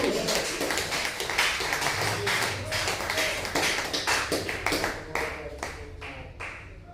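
A church congregation claps along in a steady, fast rhythm, many hands striking together in sharp repeated beats that fill the room for several seconds before thinning out toward the end.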